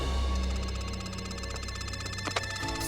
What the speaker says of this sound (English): And Rufus, look who's finally calling.